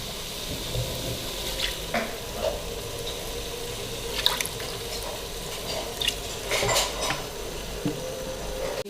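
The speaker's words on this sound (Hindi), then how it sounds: "इसको भूनेंगे, थोड़ा सा इसको भूनते हैं।" Minced meat with garlic and onion fries in oil, a continuous close sizzle broken by scattered scrapes and clinks of a stirring spoon against the pan.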